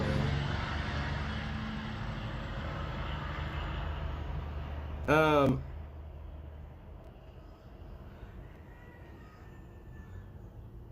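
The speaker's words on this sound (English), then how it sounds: "These stupid trucks are so loud" Loud trucks rumble past in a steady broadband roar that fades after several seconds, leaving a quieter hum, while someone speaks briefly over the noise.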